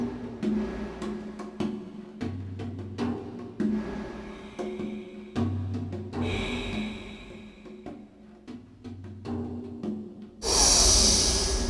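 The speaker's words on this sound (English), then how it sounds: "Make it your best and your longest inhale, holds, and exhales." Deep yogic breathing in a guided session: a series of long, audible inhales and exhales with short pauses between, close and clear, ending in a louder rushing breath, no talking.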